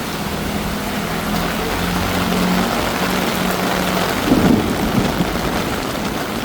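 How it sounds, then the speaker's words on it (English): Steady monsoon rain hisses throughout in Bangkok while a low, distant thunder rumble rolls underneath, with no voices. "You can hear the thunder."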